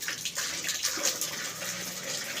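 Water runs steadily from a tap during plant watering, a soft, continuous splashing gush heard close by with no talking.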